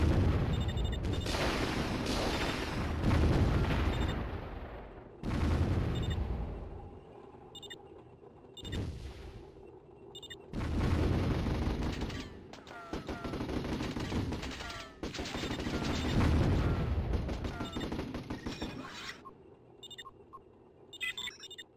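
Battle in the Warzone 2100 strategy game, with dense bursts of gunfire and booming impacts arriving in several loud clusters separated by brief lulls, sustained and rattling throughout.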